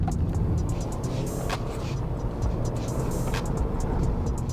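A 2023 Subaru WRX in manual mode holds its revs, a steady engine drone and road rumble heard from inside the cabin with brief whooshes of passing air.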